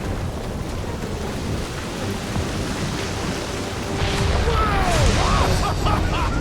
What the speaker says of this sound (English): This me, or is the storm actually getting worse?